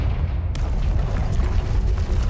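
A Confringo fire spell explodes in Hogwarts Legacy, a sudden loud burst followed by a sustained roaring, crackling rumble.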